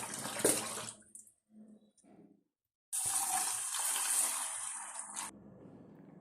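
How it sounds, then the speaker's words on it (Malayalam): Water is poured onto rice and urad dal to soak them for idli batter, with a splashing pour in short bursts and then a longer steady stream that stops abruptly, along with faint background sounds. "ആവശ്യമുള്ള വെള്ളം ഒഴിച്ചു കൊടുക്കാം"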